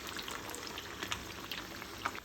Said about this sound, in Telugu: మంచిగా వేడయింది కదా ఆయిల్ ఇంక ఇప్పుడు ఇందులో వేసుకొని ఫ్రై చేసుకోండి